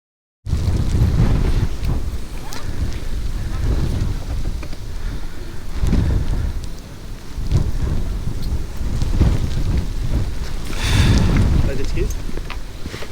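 Rain and gusting wind roar against the microphone on a BMW R1250GS motorcycle trip in South Africa, a steady loud wash with low rumbling surges and buffeting throughout, no talk.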